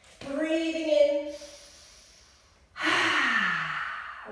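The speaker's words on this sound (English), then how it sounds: "as we breathe out, stick out your tongue" A child doing yoga dragon breath forcefully exhales with the tongue out, two loud voiced breaths out, each with a rough, breathy tail, close to the listener.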